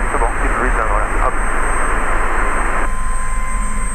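A helicopter engine runs steadily during an elementary flight lesson, a loud continuous drone and whine inside the cockpit, with a voice speaking over it and a radio-like tone near the end.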